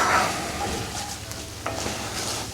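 Chilies stirred in a pan of onions for a classic curry made with beer, cooking over medium-low heat: a steady soft sizzle with light scraping stir strokes, close and moderate, no talking.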